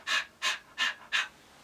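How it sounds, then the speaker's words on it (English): Four evenly spaced, close breathy pants in quick succession, each a short burst of air, with nothing else around them. "Panting."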